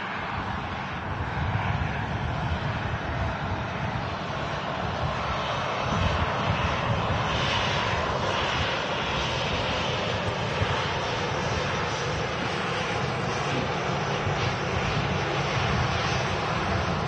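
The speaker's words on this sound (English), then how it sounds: "Ryanair 737, just about to fly to Nantes, an hour and 30-minute flight" Ryanair Boeing 737 jet engines roar steadily at Manchester Airport, a loud, continuous broadband roar with wind buffeting, holding for about seventeen seconds without speech.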